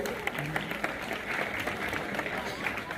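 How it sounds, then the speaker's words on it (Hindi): Applause from a crowd at a school Republic Day function honouring a guest, a dense, steady rush of clapping at a distance with voices mixed in. "जोरदार तालियां बजाएं मांगेराम जी के लिए"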